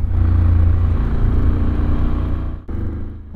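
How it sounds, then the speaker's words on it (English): A Honda X80V motorcycle engine on the move gives a steady, loud, close-up rumble that holds even for about two and a half seconds, dips briefly, then resumes. "the engine sound of the Honda X80V"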